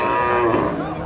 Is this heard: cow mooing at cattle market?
yes